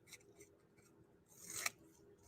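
Scissors trimming craft paper, a few quiet snips followed by a longer, brighter cutting slide near the end, close up in a quiet room.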